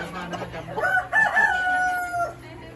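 Chickens call close by at a children's play farm, with a drawn-out, strained squawk in the middle and shorter clucks around it, fairly loud.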